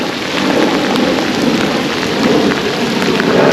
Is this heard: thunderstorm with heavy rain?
yes